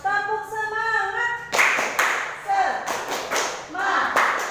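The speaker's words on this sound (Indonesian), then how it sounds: "Yuk kita tepuk semangat dulu." A sixth-grade class in an Indonesian classroom claps the rhythmic tepuk semangat chant, sharp grouped claps following a sung or spoken line, with children's voices chanting between the hand claps.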